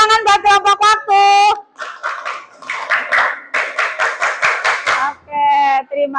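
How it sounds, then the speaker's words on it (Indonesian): A classroom group claps along with shouted chants and cheering voices, the clapping rhythmic and close, mixed with loud group vocals throughout. "tepuk tangan buat kelompok waktu"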